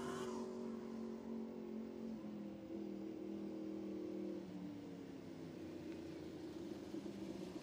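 A Lightning Sprints race car powered by a Suzuki GSXR 1000 motorcycle engine drones loudly and steadily at speed, its high-revving four-cylinder whine shifting pitch partway through, heard from a distance without speech.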